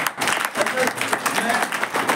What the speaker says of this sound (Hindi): सर के लिए ताली बजा दीजिए।